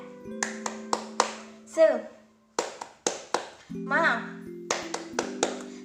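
A teacher leads a rhythmic clapping cheer to close an online lesson, with sharp, close hand claps in patterned groups. Her chanting voice comes in between and over the claps.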